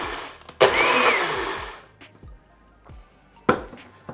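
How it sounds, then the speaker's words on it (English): A countertop blender pulses a vegan food gift mixture with cinnamon in two short whirring bursts, the first longer and fading out, the second a brief jolt. "I'm going to pop the lid on and just pulse it a little bit just to help mix these flavors"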